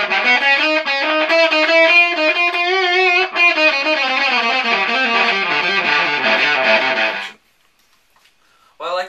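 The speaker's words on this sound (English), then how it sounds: "Play the Carbonator with the fizz switch on, which creates a really unique synth distortion type sound." An electric guitar plays through a Six String Effects Carbonator pedal with its fizz switch on, a buzzy, synth-like distortion, sustained notes with a fizzy edge, then stops abruptly before a brief final burst.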